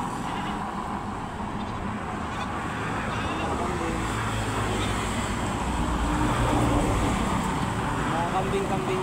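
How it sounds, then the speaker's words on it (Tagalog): Domestic goats in a grassy spot give a few short bleats near and mid-distance, mixed with a steady background of road traffic and people talking. "may kambing dun oh"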